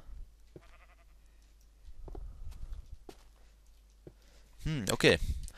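A sheep in the Minecraft video game bleats in short, buzzy calls over a quiet in-game background with light footstep-like clicks, ending with a louder, fuller bleat.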